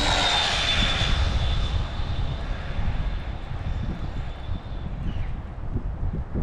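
Arrma RC car with a Castle Cobra 8 motor held at full throttle on a speed run, running an Ovonics battery, giving a loud, steady high-pitched whine that drifts slightly as it passes, with no talking.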